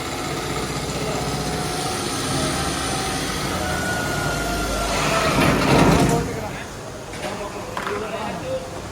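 A tractor pulling a seed drill drones steadily and loudly, rising briefly in a rumbling surge before settling back, with a voice talking over it.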